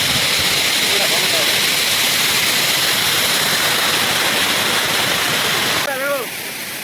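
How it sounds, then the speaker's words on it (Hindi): Steady roar of a waterfall in Munnar, Kerala, loud and continuous throughout, with faint voices faintly audible beneath the rush of water before it softens near the end. "यहाँ पे आप लोग देख सकते हो पानी झरना है"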